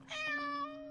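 A single short cat meow from the horror video game Layers of Fear, clear and tonal, sounds alone and fairly quietly.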